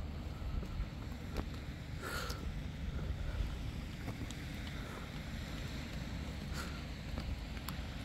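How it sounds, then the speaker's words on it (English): A low, steady boat engine rumble mixes with wind and lapping water off a rocky beach, with a few faint clicks and knocks scattered throughout. "Boat."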